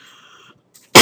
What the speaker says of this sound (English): Talking makes me cough.